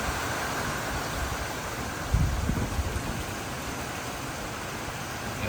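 Constant broadband rush of strong wind and rain during Typhoon Enteng in Ilocos, steady and enveloping, with a brief low thump partway through.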